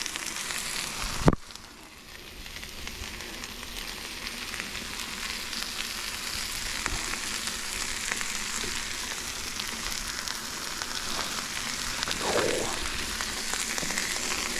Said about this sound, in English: I am just cleaning the griddle top a little bit so I can throw down some buns.